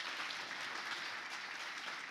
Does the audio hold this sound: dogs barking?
no